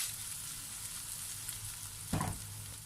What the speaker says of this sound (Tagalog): ilalagay na natin ang ating uh, ginger. And uh, tuloy lang natin ang ating paggisa for another 35 seconds